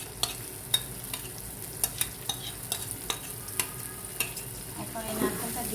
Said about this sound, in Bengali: এখন এই নারকেলটা দিয়ে আমি এটাও ভালোভাবে কষাবো